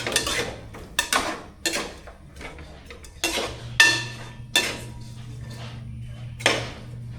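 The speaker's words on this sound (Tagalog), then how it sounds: "Lagyan natin haluin." Chicken with tomatoes stirred in a cooking pot: a spoon knocks and scrapes against the metal in repeated clinks and clatters, fairly close, over a low hum.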